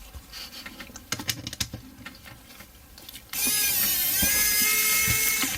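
Screws are backed out of a GIGABYTE RTX graphics card backplate, first as scattered small ticks and clicks, then as a continuous high whirring of an electric screwdriver that runs steadily to the end, close and fairly quiet.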